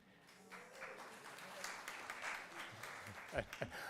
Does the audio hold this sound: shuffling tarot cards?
no